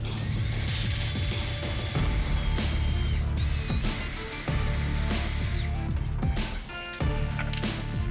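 A power drill driving pocket screws into clamped wooden boards for an antique wishing well, whirring and ratcheting in several bursts with brief pauses between, close and loud with no voices.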